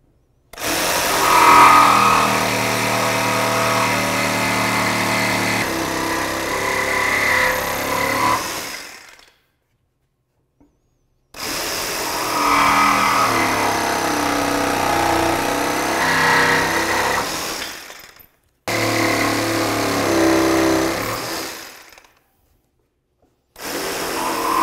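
A power saw, likely a jigsaw, cuts curved pieces of wood for a DIY lounge chair, running loud and steady in three long bursts separated by short pauses.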